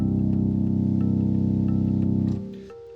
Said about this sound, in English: On grandmother here, I just have that low bass drone note that comes in a couple times through the song programmed in.